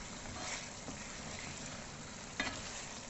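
Green chillies fry in a chicken karahi, a quiet, even hiss of sizzling oil with a single brief clink of a utensil near the end.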